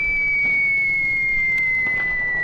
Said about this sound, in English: Now, what's that whistling sound?